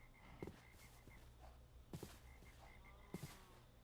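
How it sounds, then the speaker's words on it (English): Frogs in modded Minecraft croak in short, loud bursts spaced roughly every second or so, with soft repeating game tones and faint footsteps underneath. "A lot of fucking frogs around here."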